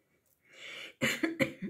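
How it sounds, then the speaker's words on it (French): A short breathy exhale followed by a cluster of three or four sharp coughs, close and fairly soft, with no speech. "Désolée, ça me fait tousser."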